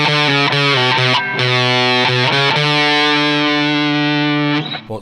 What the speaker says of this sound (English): it's just really fuzzy distortion